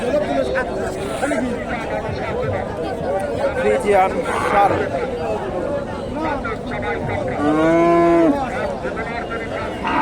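Friesian bulls at the Mahasthangarh cattle market, with one loud, drawn-out moo rising near the end over a constant hubbub of people chatting and bargaining.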